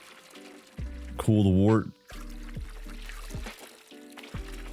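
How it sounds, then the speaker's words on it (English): Liquid pours into a brewing pot in the Brewmaster beer brewing simulator, a brief, loud splashing gush lasting under a second, set among repeating game music tones while someone speaks over it. "Pour it all in there, brother."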